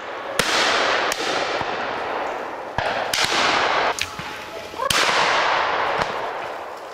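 Several sharp shotgun blasts crack out at uneven intervals at flushed pheasants during a shoot, each followed by a rolling echo, over a constant background hiss outdoors.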